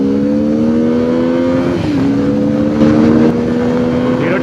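A BMW F450 GS motorcycle accelerates hard from a standstill, its engine note climbing loud and close through a gear change, then rising again.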